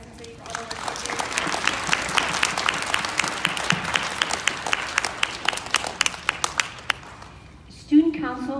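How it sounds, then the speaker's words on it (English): A school audience at a Lenten service project kickoff gives a warm round of applause for a charity group, with steady crowd clapping that thins out before a speaker's voice returns. "let's give another round of applause for Christ and City for all the work they do"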